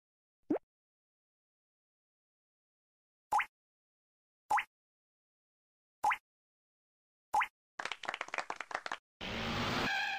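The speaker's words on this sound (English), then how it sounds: "clap" Crisp single hand claps from a children's educational cartoon game, five short sharp claps spaced a second or more apart against silence, followed by a burst of busier noise.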